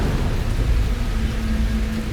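Heavy rain pours down steadily with a low thunder rumble beneath it. The hiss is loud and continuous throughout, with no voices.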